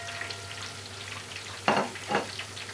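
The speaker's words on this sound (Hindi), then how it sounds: "इसमें आपने स्ट्रेट अवे अपने टमाटर और हरी मिर्ची ऐड कर लेनी है" Tomatoes and green chillies frying with softened onions in a pan for an egg masala, giving a steady low sizzle broken by two brief bursts of stirring or tossing close by; no voices.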